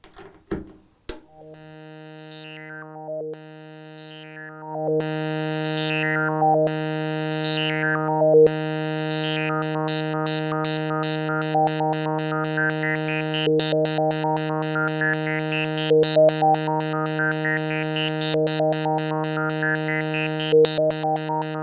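Behringer 2600 synthesizer tones, sample and hold driven by a VCO, sweeping and stepping rapidly through pitches in a repeating pattern over a steady sustained drone, bright and electronic.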